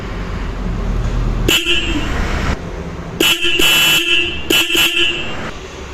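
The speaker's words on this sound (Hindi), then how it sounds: "अब आप हॉर्न को ब्लो कर देख सकते हैं इसकी क्वालिटी कितनी ज़्यादा बढ़िया आई है" A loud two-tone dual horn on a 2024 Royal Enfield Bullet 350 motorcycle honks three times up close, one long blast then two shorter ones, over a low idling hum.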